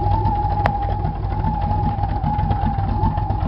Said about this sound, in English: Get a shot of the exhaust sound here.